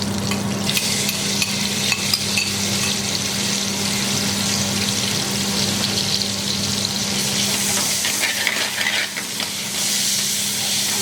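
Tomato puree cooks with garlic and ginger in a pan for restaurant-style chicken chaat, giving a loud, continuous bubbling sizzle with occasional stirring scrapes, close and with no voices.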